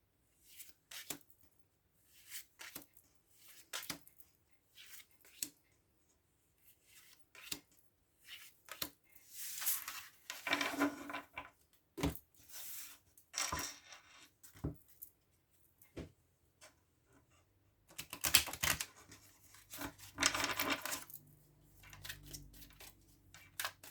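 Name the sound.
oracle cards being handled and laid out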